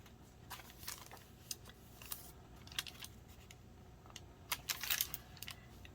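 Sheets of crinkly tracing paper handled in a journal flip-through, giving faint scattered crackles and rustles with a brief louder crinkling burst near the end, close by and without talk.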